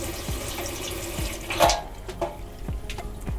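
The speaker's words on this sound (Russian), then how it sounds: "Раковина, кран. Вода здесь только холодная." Cold well water trickles from a sink tap at a countryside dacha, with irregular drips and splashes, a brief louder gush, and no voices.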